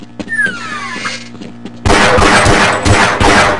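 A single loud gunshot goes off close by, followed by a dense rumbling tail of noise after a brief lead-in of quieter game sounds.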